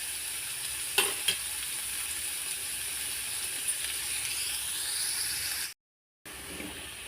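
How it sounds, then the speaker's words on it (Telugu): Three eggs deep frying in hot oil give a steady close hiss and crackle, with a couple of sharper pops early on and a brief break near the end. "ఇది కొంచెం డీప్ ఫ్రై లాగా చేసుకోవాలి."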